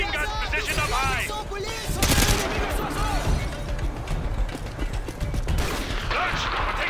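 Heavy gunfire in Call of Duty: Modern Warfare 2 clatters in rapid bursts and fusillades, near and loud, with voices speaking over the shooting.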